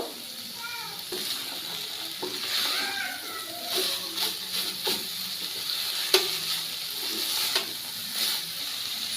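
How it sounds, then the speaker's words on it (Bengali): Vegetables stir-fried with spices sizzle steadily in a pan while a spoon scrapes and clicks in irregular strokes, with a faint voice-like sound early on. "এবার ভালো করে মশলার সাথে সবজিটাকে কষিয়ে নেব"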